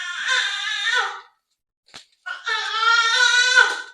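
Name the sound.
baby babbling in the background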